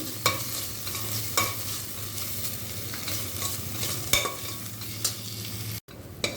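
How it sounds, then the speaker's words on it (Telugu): Steady sizzling of ginger-garlic paste frying in a hot pan for rajma masala curry, with periodic scraping strokes of a spoon stirring, close and fairly loud, no talking. "ఓ స్పూన్ అల్లం వెల్లి పేస్ట్ వేసుకున్నాము ఇది కూడా కొద్దిగా పచ్చివాసన పోయేదాకా వేపుకోవాలి"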